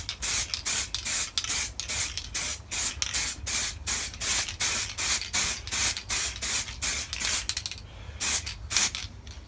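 An aerosol can sprays paint onto a motorcycle tank in short repeated bursts, each hissing blast close and loud, separated by quick pauses in a steady rhythm.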